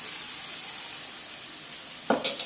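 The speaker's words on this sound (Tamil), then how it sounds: "பாருங்கள் இப்போ வெண்டைக்காய் வந்து நம்ம போடுறோம்." Okra (vendakkai) frying in a pan for poriyal, a steady close hiss of sizzling oil, with a short scrape of stirring near the end.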